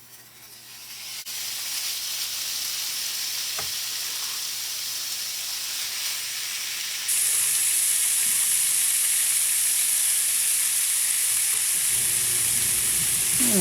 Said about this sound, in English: We're going to want a nice hot pan to get this bacon really crispy